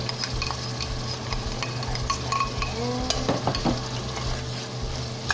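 Carrots tipped into ground pork frying in a pan, a steady sizzle with scraping and stirring clatter from a utensil, close and continuous, no talking.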